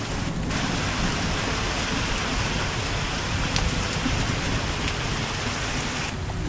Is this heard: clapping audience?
no